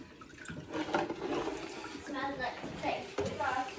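Water splashes and pours in a container holding freshly caught crayfish as it is emptied and refilled, an uneven close sloshing and gurgling with speech mixed in.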